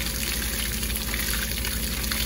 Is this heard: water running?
yes